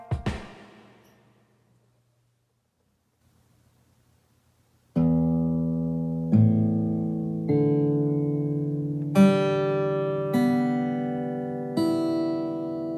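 A Taylor GS Mini acoustic guitar played by a beginner rings out one note that fades to silence, then a string of single plucked notes and chords follows at a slow, hesitant pace.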